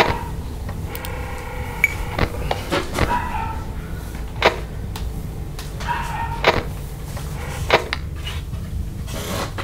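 Indoors, a dog barks and whimpers in scattered short bursts, some sharp and loud, others fainter whines, mixed with faint knocks and rubbing noises in the room.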